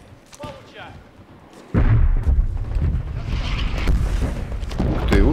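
A heavy blast hits suddenly, followed by rumbling explosions and booming impacts from an airstrike in Medal of Honor Warfighter, loud and sustained, with a voice reacting over them.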